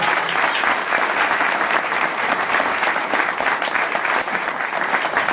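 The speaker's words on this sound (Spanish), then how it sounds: "A Pablo Tirar, un aplauso grande para él." Crowd applause at a political gathering in Miramar, General Alvarado, honoring a speaker, with thick, sustained clapping from many hands continuing at full strength for over five seconds and no talking on top.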